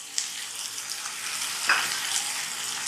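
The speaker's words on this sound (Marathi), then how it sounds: "आपण त्यात आता धने पावडर टाकून घेऊया." Spices frying with coriander powder in a pan for Maharashtrian misal, a dense steady sizzle with a brief stirring scrape, close and without speech.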